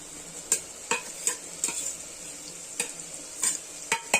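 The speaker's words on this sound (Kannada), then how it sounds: "ಪುದೀನ, ಕೊತ್ತಂಬರಿ ಸೊಪ್ಪು ಈಗ ಚೆನ್ನಾಗಿ ಫ್ರೈ ಮಾಡಿ ಎಲ್ಲಾನು." Mint and coriander leaves frying in a pan under a soft sizzle, punctuated by about ten sharp metallic scrapes and taps of a spoon against the pan at irregular intervals, with no talking.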